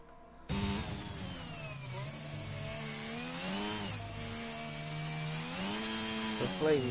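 Red Bull Formula 1 car engine from the racing game F1 22 at the Belgian circuit, a loud high-pitched whine that cuts in abruptly and then repeatedly revs up and down through gear changes, continuous and close.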